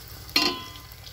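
Onions frying in oil for a meat masala, about half a kilo in a large batch: a sudden sizzling burst of frying that swells, then slowly fades into a steady, softer crackle.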